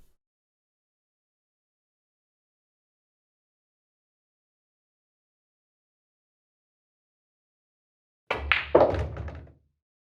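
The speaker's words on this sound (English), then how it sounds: "So let's do my first choice and actually play that stun shot." A pool cue ball stun shot breaks into a rack: after long silence, a single sharp knock of cue striking ball is followed by a brief clatter of balls colliding, close and clear.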